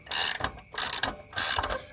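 A hand ratchet tightens the nut on a 2004 Jayco Dove camper's stabilizer jack, making three quick rhythmic bursts of clicking, close and clear with short pauses between strokes.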